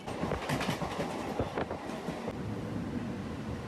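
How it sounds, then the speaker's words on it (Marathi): A local commuter train near Ambarnath rolls past close by, loud with rhythmic clickety-clack wheel beats at first, then easing into a steadier rumble. "आली ट्रेन"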